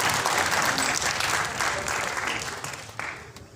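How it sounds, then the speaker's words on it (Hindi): Enthusiastic applause from an audience at a municipal teachers' honouring ceremony in North Delhi, dense clapping that is loud at first and gradually fades toward the end. "आप सब अपने लिए एक बार जोरदार ताली बजा दो"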